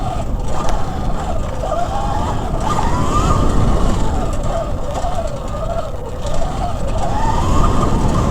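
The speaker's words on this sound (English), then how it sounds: "The chain is a little chattery over the metal frame when it hits the metal frame" ThunderWasp XR16 16kW electric dirt bike riding off-road with its chain chattering against the metal frame, a steady close whine that rises and falls over rough rumbling and wind.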